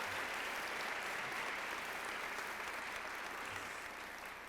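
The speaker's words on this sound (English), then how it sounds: "Yes, now you can applaud" An award ceremony audience breaks into sustained, dense applause that fills the room evenly for several seconds, with no voices over it.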